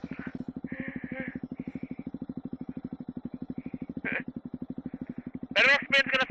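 A Triumph Scrambler 400X motorcycle idling on a mud trail, a close, regular thumping engine pulse that runs throughout, with people talking over it and a sharp clatter near the end.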